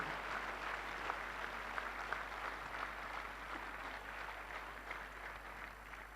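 An audience in an indoor hall applauds for itself, a steady, fairly soft wash of clapping that continues evenly throughout.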